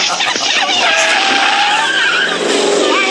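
Sustained, loud tire squeal and skidding from cars in a comedy film chase, continuous and near with engine noise, a faint voice briefly underneath.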